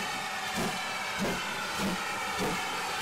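A steam locomotive hissing on a heritage railway, a steady close broadband hiss with soft rhythmic chuffing pulses about every half second.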